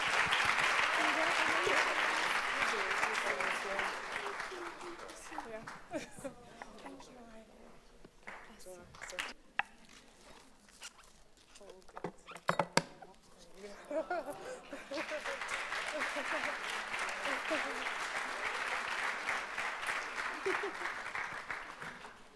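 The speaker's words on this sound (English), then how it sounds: "Let's give her a round of applause," Audience applause at a testimonies event rises in two long bursts of dense clapping, with a quieter lull between them where talk and scattered sounds come through.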